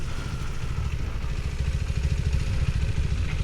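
A KTM 390 Adventure R motorcycle making a slow, tight turnaround, its engine chugging steadily at low revs and close by, with a slight rise in throttle toward the end; no one speaks.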